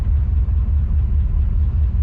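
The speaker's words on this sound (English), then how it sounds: "the exhaust sounds really good at the moment" A Chevrolet Chevelle engine and exhaust give a steady, deep idling rumble, close and loud, with no speech.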